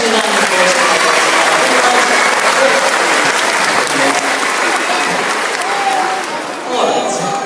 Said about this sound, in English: Give them both a nice round of applause.